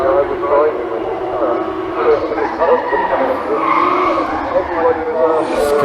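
Drifting Driftworks Nissan Skyline at a retro car gathering, tyres skidding and engine roaring continuously at moderate distance, with people talking over the noise throughout.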